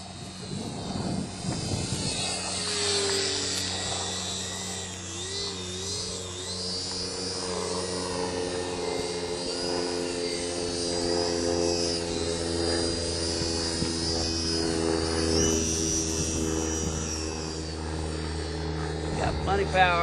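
An Extra 300 RC model airplane's engine buzzes steadily and fairly close, its pitch slowly rising and falling as power changes, while someone talks over it.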